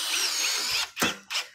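A power drill drives screws into a wooden aquarium stand, first a steady loud whine, then two short separate bursts of the motor close by.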